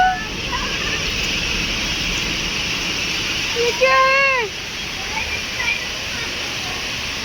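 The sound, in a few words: floodwater flowing inside a metro station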